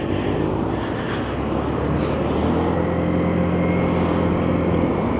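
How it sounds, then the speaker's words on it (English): A small Lexmoto OCR scooter engine hums steadily, a quiet, low continuous drone at moderate loudness with no voices. "And you just hear that little motor winding away. It's a very quiet engine on this."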